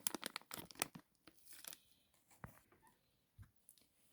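Scraping, crinkly stirring of thick dough with a spatula, in quick bursts at first, then slower, sparser strokes with pauses.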